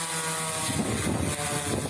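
Agricultural sprayer drone known as the Wasp, shown at an agricultural exhibition in Moscow, giving a steady propeller buzz with a high tonal whine, moderately loud and unbroken, with no voices over it.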